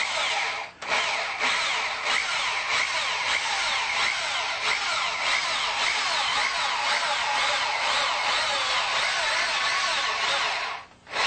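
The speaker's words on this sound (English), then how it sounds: "I just unplugged the drill." An electric drill whines continuously and close by during wing construction work on aluminum or wood, with brief dips near the start and the very end.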